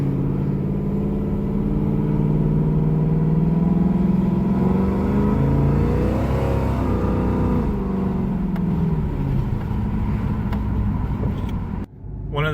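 An LS1-powered fourth-generation Camaro with an upgraded torque converter and rear gears accelerates, its engine holding a loud, steady drone that rises and sweeps in pitch before easing off and cutting out near the end.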